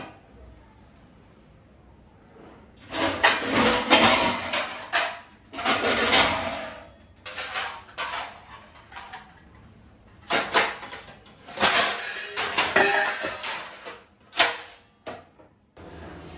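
Washed dishes and pots are stacked and put away in bursts of close clattering and knocking, separated by short quiet gaps.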